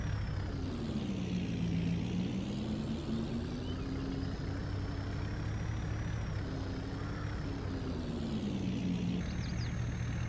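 A snow plow truck fitted with a Boss straight blade drones steadily through a Home Depot parking lot in Farming Simulator 22, a low engine hum with a faint high whine, quiet and continuous without talk.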